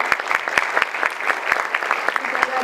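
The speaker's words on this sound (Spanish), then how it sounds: "Un aplauso para esta parte." Audience applause at a festival forum on fear, opposition and forced disappearance in Colombia, moderately loud clapping with sharp individual claps standing out over a steady patter for under three seconds.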